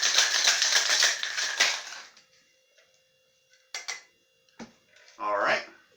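Cocktail shaker with ice rattled hard for about two seconds, a dense run of quick clattering shakes, followed by a few scattered clinks and brief talk.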